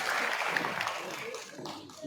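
A crowd claps steadily at a calligraphy exhibition in Pakistan, a dense wash of applause that slowly fades while someone talks over it.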